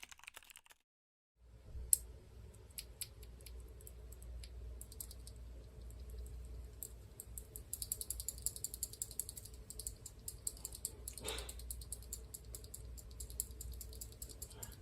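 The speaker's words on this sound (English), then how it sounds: "listen to it when I click down on the switch and shake it around" An MX Blue clicky keyboard switch is pressed and shaken, giving a close, dense stream of sharp clicks and loose plastic rattling that grows busier after a brief silence at the start.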